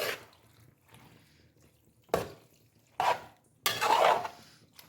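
Macaroni folded into a creamy pasta sauce: several separate wet squelching, sloshing strokes a second or so apart, the last one longest, close by with quiet gaps between.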